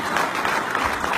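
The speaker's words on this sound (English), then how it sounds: "You can clap." An audience at an Elks Grand Lodge gathering claps steadily and fairly loudly, a dense, even patter of many hands with no voices over it.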